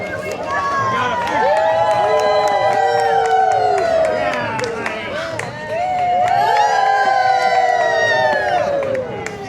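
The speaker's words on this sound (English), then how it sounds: "That was the flag catcher getting some good cheer." A crowd at a dragon boat race cheers and whoops loudly for the team's flag catcher, with rising and falling shouts in two big swells and some clapping.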